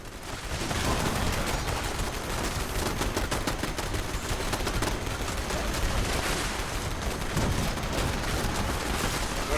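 Dense, nonstop automatic gunfire in Fallout 76, with rapid shots and booms running together loudly for the whole stretch and no talk over it.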